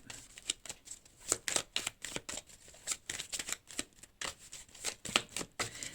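A tarot deck is shuffled and cards are drawn, close, crisp riffling and slapping in quick irregular bursts with brief pauses, quiet and alone with no talk.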